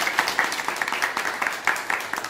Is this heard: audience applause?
yes